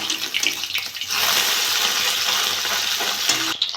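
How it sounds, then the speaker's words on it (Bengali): Bele fish fry in hot mustard oil in a wok, building from scattered spatters into a loud, steady sizzling hiss that holds for several seconds. "ভাজিটা এক সাইড ভাজা হয়ে গেছে আমি উল্টে দেবো"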